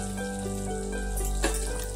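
Cumin seeds sizzling in hot oil and butter in a pan, a steady soft frying hiss close by with a brief crackle near the end, no talking.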